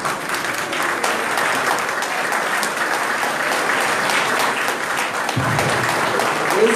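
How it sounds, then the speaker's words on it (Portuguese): An audience applauds steadily at the opening ceremony of a sports integration games event, with loud, dense, continuous clapping that fills the whole span. "Não tem economia de aplausos."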